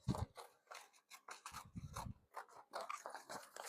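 Scissors cut out a paper piece for a farmhouse decor craft, a close, rapid series of crisp snipping cuts in an uneven rhythm with no talking.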